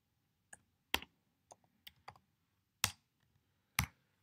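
Sparse keystrokes on a computer keyboard during a coding session, with scattered single clicks and short bursts that include several louder, sharper key hits, heard alone in a quiet room.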